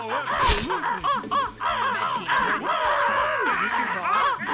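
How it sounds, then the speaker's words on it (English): Crows caw in a video game, several harsh overlapping calls repeating in quick succession, fairly loud and close, with a voice briefly underneath. "Fucking crows! Crows!"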